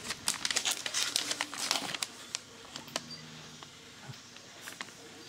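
A fold-out paper greeting card is handled close up, with crisp crinkles and rustling bursts clustered early, then sparser, quieter ticks and taps as the layers settle.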